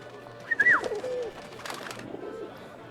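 A pigeon cooing in the video game 11-11 Memories Retold, one warbling, throaty coo rising and falling close by over a faint background hum, then quieter murmuring.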